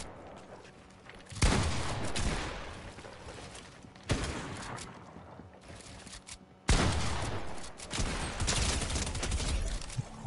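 Three loud bursts of video game gunfire break out in turn, each a dense, crackling volley that trails off before the next, with no talk over them.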